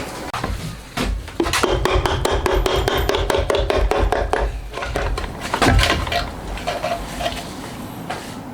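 Steady rasping strokes file down a part of a homemade DOHC cylinder head, the repeated scraping coming close and fairly loud in a regular back-and-forth rhythm, with a few clanks of metal near the end.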